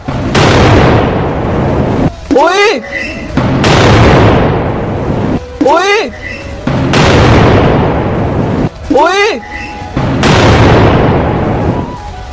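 S-400 air defense missiles and their explosions: a loud, repeated pattern of long roaring blasts, each broken by a brief whistling, warbling sweep before the next roar, about four cycles in all, with no speech.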